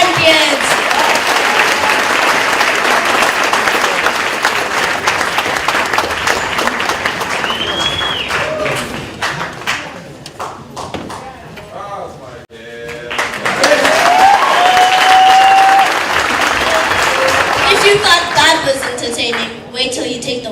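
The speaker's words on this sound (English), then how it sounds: "Could you please give another warm round of applause to congratulate Rosina's champions?" Sustained applause from a crowd at a school re-classification launch ceremony for Rosina Sedibane Modiba School, loud and dense, dipping briefly midway before swelling again, with voices and whistles mixed in.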